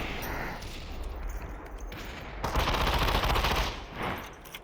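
Sustained automatic P90 fire in the video game Population: One, a dense rapid rattle running throughout, swelling louder in a heavier burst midway before easing, with no talk over it.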